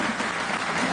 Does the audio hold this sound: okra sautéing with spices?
no